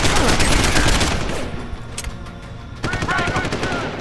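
Sustained automatic gunfire in the video game Deus Ex: Human Revolution, loud and close, a dense rattling stream that thins out midway, then resumes as a rapid burst.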